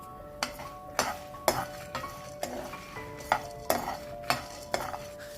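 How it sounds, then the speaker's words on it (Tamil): Coriander, chilli, cumin, fenugreek and curry leaves dry-roasting in a pan, stirred with a metal spoon that scrapes and clinks against it in a steady rhythm of sharp strokes, close and clear with a faint sizzle beneath. "வெந்தயம் கருவேப்பிலை எல்லாத்தையும் நல்லா வறுத்துட்டு"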